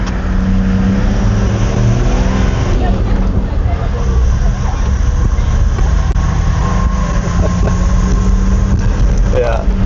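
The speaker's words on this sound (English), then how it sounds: "Good thing that diesel has a turbo." A crowded turbo diesel truck carrying about 21 passengers labors along, its engine rumbling loudly and steadily underneath constant chatter from people on board.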